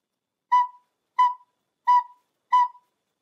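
Four short, evenly spaced notes from a recorder, blown as low as possible and played quickly as quarter notes, each a clear breathy tone with silence between, alone and close.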